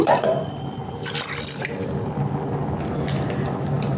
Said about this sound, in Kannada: ಬಿರಿಯಾನಿಗೆ ನೀರು ಎಷ್ಟು ಬೇಕು ಅಷ್ಟು ಹಾಕೋಬೇಕು